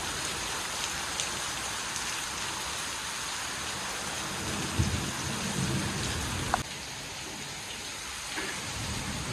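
Steady rain pours over the scene while low thunder rumbles in the background, with a couple of brief sharper cracks; no one talks.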